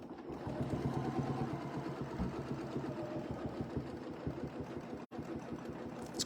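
A sewing machine stitching a quarter-inch quilting line, a continuous close motor hum with rapid needle pulses that dips briefly to silence near the end before resuming.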